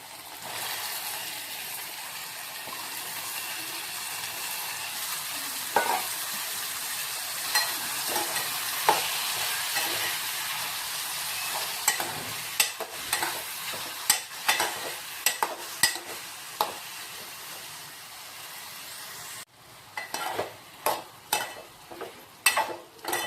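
Tomato and ridge gourd pieces fry in a pan for a Karnataka-style heerekayi palya, giving a steady sizzle with a run of scraping stirs and clacks that grow more frequent toward the end, no voices.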